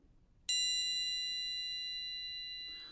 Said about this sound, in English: the triangle has a number of ways that it can be played